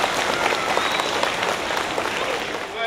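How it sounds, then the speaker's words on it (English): Students at a Red Ribbon school rally give a loud, dense round of applause and crowd noise, sustained evenly throughout and easing slightly at the end. "So give yourselves a round of applause for them."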